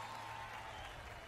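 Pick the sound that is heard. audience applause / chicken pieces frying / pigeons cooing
audience applause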